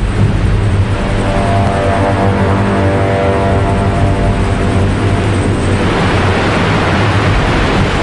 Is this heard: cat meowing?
no